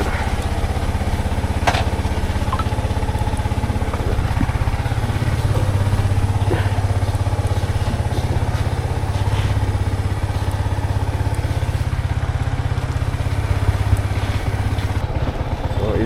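A motorcycle engine runs at a steady mid-pitched idle close by for the whole stretch, with small knocks and handling noises as a rider mounts the bike.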